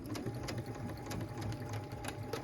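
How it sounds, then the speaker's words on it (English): Sewing machine stitching a stocking lining with a half-inch seam, a steady rapid mechanical whir running throughout, close and even. "we're going to put this under our presser foot and stitch it with that 1/2 inch seam as well"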